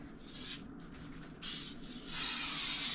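Cooking spray from an aerosol can hisses onto a stoneware baking dish in three bursts: a short one, a second after a brief pause, then a longer steady spray at the end, heard up close with no talking.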